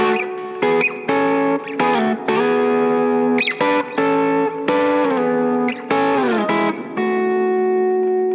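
Electric guitar played through effects with distortion and chorus, ringing out double stops in sixths: a run of paired notes that shift and slide from one to the next, loud and up close, with no talking.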